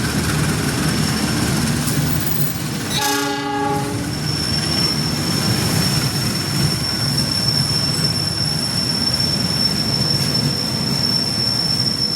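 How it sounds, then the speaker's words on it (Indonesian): A train rolls into Kroya station, Indonesia, with a loud continuous rumble, a brief horn blast near the start, and a sustained high wheel squeal over the clatter. "Ini dari arah timur juga masuk kereta api"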